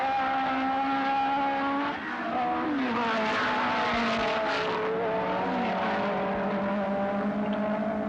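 Race cars of the 1969 Tasman Series lap a wet circuit, their engines whining with shifting pitch as they pass at moderate distance and fade, heard without talk.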